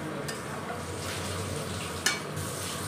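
Ginger chicken being stirred in a pan, a continuous low sizzle with soft scraping movements and one brief metallic clink near the end, no voices.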